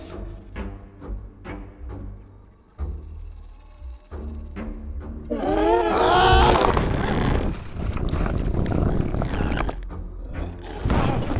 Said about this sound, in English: I voiced Benny and put the result through ShaperBox, combined with recordings of my cat eating, pigs sleeping, and reversed elephant trills